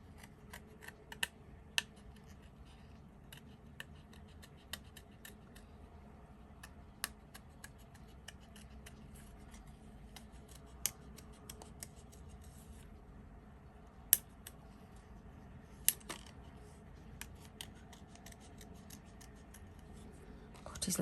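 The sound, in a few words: scissors cutting out a paper shape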